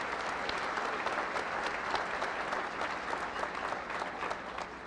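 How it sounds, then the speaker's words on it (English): A graduation audience at Kansas City Kansas Community College claps in a steady, dense round of applause that holds evenly throughout, a broad crowd sound with no voices standing out. "Please give another round of applause for Patrick and for the ROTC."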